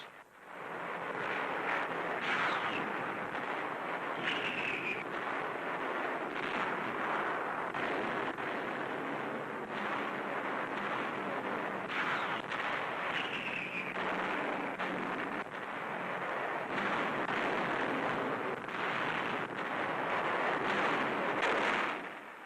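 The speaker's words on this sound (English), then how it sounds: "The heaviest Allied barrage of the war precedes a dawn attack." An Allied artillery barrage and bombing from 1944 wartime newsreel footage, a dense, continuous roar of booming blasts and rumbling fire with no clear breaks, loud and distorted throughout.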